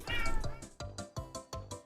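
A cat meows repeatedly, one drawn-out cry followed by a string of shorter, insistent meows in a steady rhythm, fairly close and clear.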